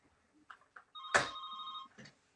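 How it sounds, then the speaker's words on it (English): A fax machine rings once indoors, a single electronic trill lasting under a second, fairly close and clear, with faint clicks and thumps around it. "it's my fax machine ringing"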